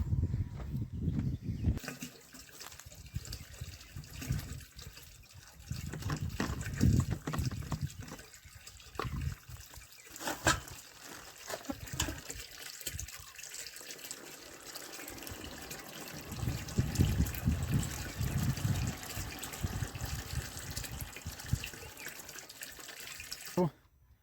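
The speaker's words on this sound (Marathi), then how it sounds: "आता मोटर चालू केलेली आहे. पहिलं पाणी भरून घेतो, बॅरेल भरून घेतो" Water from a motor pump pours into a barrel on a farm, a steady splashing trickle that swells and eases over the whole stretch, fairly quiet and close.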